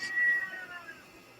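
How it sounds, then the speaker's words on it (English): A cat meows once, a drawn-out unhappy wail that is fairly close and clear, fading away with no talk over it. "Somebody's cat's not happy. I hear that."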